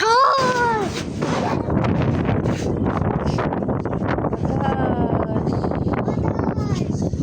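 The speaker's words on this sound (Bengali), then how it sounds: "অনেক বাতাস" Strong wind blows hard and steadily across the microphone as a storm gathers, a loud continuous rush with buffeting gusts and a brief high voice near the start.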